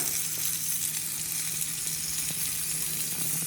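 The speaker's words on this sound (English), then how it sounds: "Here we have the pork chops getting put on the grill" Pork chops sizzle on a hot grill, a loud, steady hiss and crackle of fat running without a break and with no voices over it.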